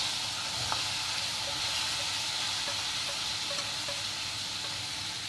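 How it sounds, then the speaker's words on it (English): Green chilies and cauliflower sizzling in a hot pan, a constant bright hiss with soft stirring taps, close and alone without speech. "Then goes in our green chilies, and then our cauliflower."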